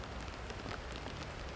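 Hard rain falls in a continuous close hiss with scattered drop impacts, steady and fairly loud for the short stretch.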